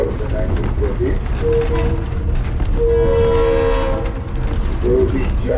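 The Santa Cruz Beach Train rolls along with a loud, constant rumble of wheels on rails, its horn sounding in several long blasts, while a voice speaks over the noise.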